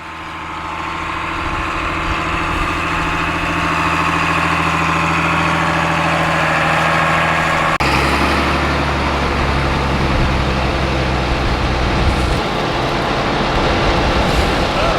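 A John Deere tractor engine running on a farm, a loud continuous idle-like drone with steady low rumble that shifts in tone midway, no talking.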